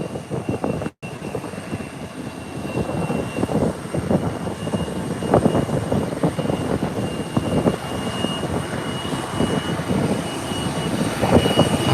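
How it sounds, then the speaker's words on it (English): An Airbus A321neo hums and roars at an international airport, a steady engine drone that slowly builds in loudness and stays continuous throughout. "which is the Airbus 321 Neo"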